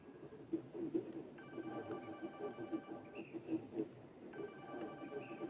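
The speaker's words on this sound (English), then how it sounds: "how are you hearing the phone ringing in that fucking building?" Telephone ringing inside a building in a video game, a repeating electronic ring in two bursts over a murky game soundscape with low rumble; no speech.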